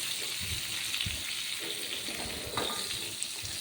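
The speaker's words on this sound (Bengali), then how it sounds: "পটলগুলো ভেজে নিলাম" Pointed gourd (potol) pieces frying in a pan, a steady broadband sizzle with faint clinks and scrapes, continuous and fairly close throughout.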